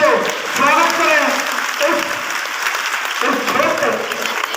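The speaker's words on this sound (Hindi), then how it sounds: "माननीय मंत्री जी का जोरदार तालियों से स्वागत करें।" An audience applauds to welcome a minister at a public felicitation event, steady sustained clapping filling the space for several seconds, with a voice faintly heard underneath.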